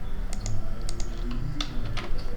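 Code being typed on a computer keyboard, a steady run of close, crisp key clicks with a few sharper strokes, alone without talk.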